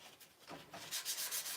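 Hand sanding a wooden pen blank on a lathe, sandpaper rubbing lengthwise across the wood with the lathe off, giving a close, faint scratchy rasp in short strokes that grows slightly louder toward the end.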